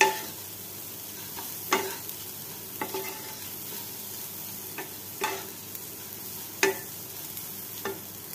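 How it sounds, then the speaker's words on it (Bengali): Khichuri rice frying with whole spices in a wok, a quiet steady sizzle broken by several sharp scrapes and knocks of the stirring spoon against the pan, spaced a second or two apart. "ফোড়ন দিয়ে চাল ভাজা বসিয়েছি। তো ভালো করে নেড়ে চেড়ে নিচ্ছি।"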